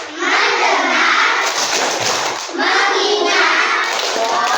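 An Indonesian primary-school class performs the "tepuk fokus" clapping chant, with many children clapping and chanting together up close. The sound is dense, loud and continuous, falling off briefly partway through before a second burst.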